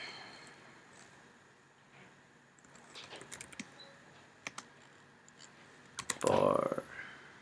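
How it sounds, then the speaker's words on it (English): A search being typed on a computer keyboard on a Windows 8 PC, with scattered soft key clicks in short runs, fairly faint and close, followed by a brief louder rustle. "if you type google.com and just type chocolate"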